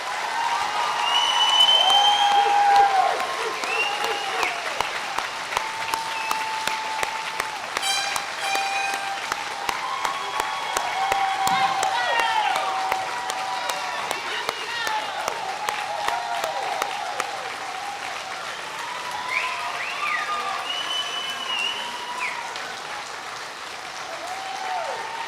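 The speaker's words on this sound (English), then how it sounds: "Let's give them a big round of applause." A large crowd applauds a graduating high school class at a commencement ceremony, sustained dense clapping with scattered cheers and whistles lasting well over twenty seconds, heard from across a big venue.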